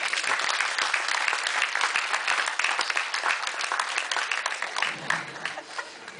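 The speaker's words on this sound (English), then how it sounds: "Let's give a round of applause." Dense, sustained applause from a casino hypnosis show audience fills the room, loud and continuous, thinning slightly toward the end.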